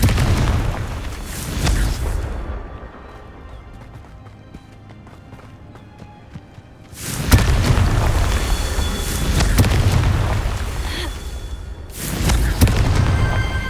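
Confringo fire spells burst one after another in a Hogwarts Legacy battle, loud booming blasts with rumbling low end, a quieter lull in the middle before the explosions return.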